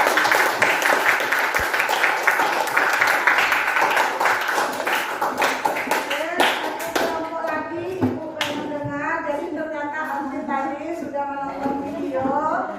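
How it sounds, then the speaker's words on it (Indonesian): Students in a classroom give loud, sustained applause for a group presentation, a brisk clatter of many hands lasting several seconds before children's voices take over. "kita beri aplaus yang kuat ya"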